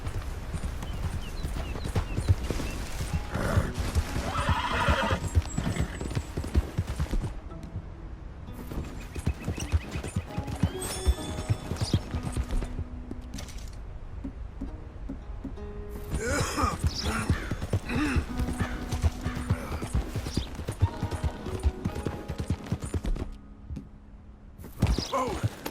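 Horse hooves clip-clop at a steady gallop on a dirt trail in the Red Dead Redemption 2 game, the rhythmic beats continuing for most of the stretch with an occasional whinny, broken by brief quieter lulls.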